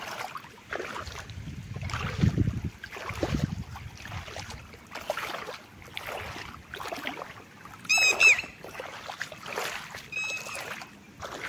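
Knee-deep floodwater from monsoon rain pushing against the legs of someone wading through it to fetch cattle fodder, rhythmic sloshing swishes with each stride, close and moderately loud, with occasional bird chirps.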